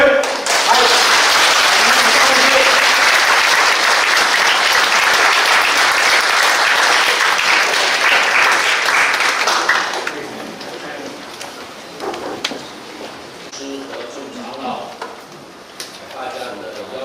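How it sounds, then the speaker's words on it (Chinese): A church congregation applauds to welcome Pastor Zhang Maosong to the pulpit: a loud, dense wall of clapping lasts about ten seconds, then fades into quieter room sounds and scattered noises. "我们用热烈的掌声欢迎！"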